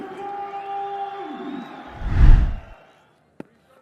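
At a Test cricket match in Rawalpindi, a brief swell of stadium crowd cheering and roaring, rising and fading within a second, after a stretch of background murmur; a single sharp knock follows.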